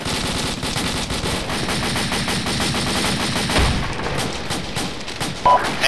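Sustained automatic gunfire in a military game firefight at an Afghan village compound, loud rapid bursts overlapping throughout with a few heavier thumps.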